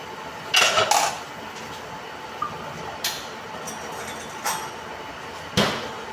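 Meat goes into a pot of long soup with dried squid and dried mussels, producing several sharp metallic clinks and clatters of utensils against cookware, close and fairly loud over a quiet kitchen background.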